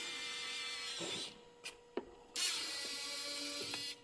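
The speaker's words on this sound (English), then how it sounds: "now let's push the retraction button to see how this motor will act" Car side mirror retraction motor, repaired after a stuck piece of plastic was removed, runs with a steady mechanical whir broken by a short pause and small clicks, then whirs again, close and quiet.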